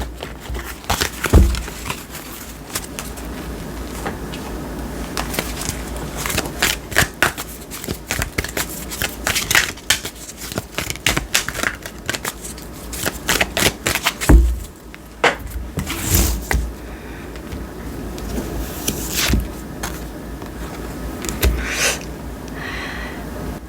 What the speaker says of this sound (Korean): 조언 카드 뽑아보겠습니다